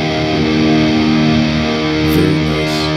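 Distorted electric guitar played through a Mesa Boogie JP2C amp preset with delay and reverb, a sustained saturated chord ringing continuously and loud, with a couple of brief higher accents near the end.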